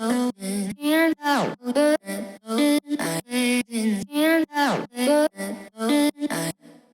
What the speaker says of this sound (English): So finally we just have the vocal chops.